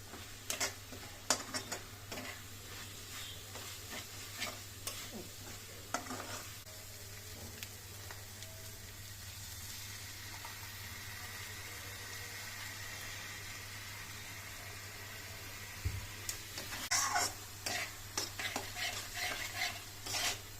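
Biryani spice paste sautés in a pan with a soft, continuous sizzle, while scattered scraping strokes of a utensil stir it, clustered near the start and end; a low steady hum runs underneath.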